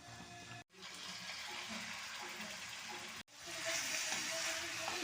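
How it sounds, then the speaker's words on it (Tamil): Marinated chicken sizzles loudly in hot oil for chicken chukka, a dense crackling hiss that cuts out briefly twice and then returns stronger, with stirring clatter underneath. "இப்போ நம்ம மேக்னேட் பண்ணிக்கிற சிக்கனை அப்படியே சேர்த்துடலாம்"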